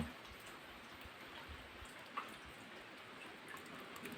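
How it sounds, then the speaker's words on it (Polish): Steady, dense patter of fine rain falling continuously on an off-grid solar setup, water dripping from the panels, soft and even throughout with no voices. "Bardzo gęsty, drobny deszcz."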